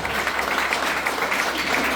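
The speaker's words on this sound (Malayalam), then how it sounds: "എല്ലാവരും പ്ലീസ് നല്ലൊരു കൈയടി കൈയടിച്ച് എല്ലാവരും നോക്കട്ടെ" A seated audience bursts into steady, dense clapping at a testimonial event, the applause holding an even, full level for the whole stretch with no pause.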